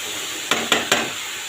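Squash fries in a pan under a steady soft sizzle, broken by three quick scraping stirs in a row close by.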